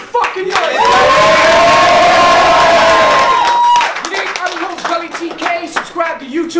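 Loud crowd roar with cheering and clapping at a rap battle event in Cleveland, Ohio, swelling for about three seconds before breaking into scattered claps and shouts as a host talks over it.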